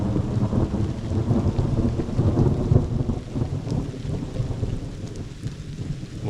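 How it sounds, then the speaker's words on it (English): A deep, rolling rumble of thunder swells and fades beneath steady rainfall at a campsite in New Zealand's Kaimai Ranges, with rain pattering throughout and no talking. "first bit of thunder, and from the sound of it, might not be the last"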